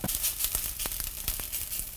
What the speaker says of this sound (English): Actually start to hear the rice, like start to sizzle a little.